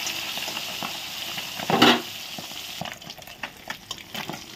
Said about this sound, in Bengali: একবার ভাজা হয়ে গেছে, আমি উল্টিয়ে দিচ্ছি।